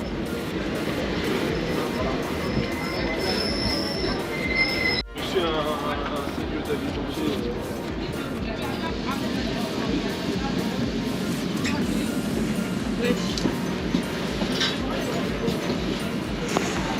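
An RER D commuter train pulls into a station in France, a steady rumble of wheels and carriage noise continuing throughout with a brief dropout near the middle, while people talk over it.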